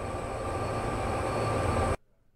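An SD70ACe diesel locomotive in the Train Sim World 2 video game on Sherman Hill rumbles loudly and steadily with a constant engine drone, then cuts off abruptly into near silence.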